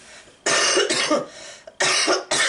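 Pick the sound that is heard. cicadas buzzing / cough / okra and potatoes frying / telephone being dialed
cough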